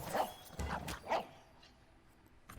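A dog in the card game Legends of Runeterra gives three quick, soft barks or yips close together, followed by a faint pause.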